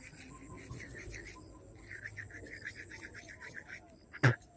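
Soft, faint scrubbing of a toothbrush on teeth during morning brushing at home, with quiet background sounds and one brief louder knock near the end.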